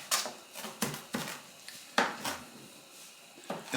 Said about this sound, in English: So I'm just going to chop up some fresh parsley.